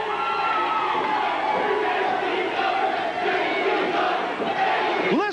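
A packed wrestling crowd roars and shouts continuously at an independent wrestling show, loud and sustained throughout with no clear individual voices.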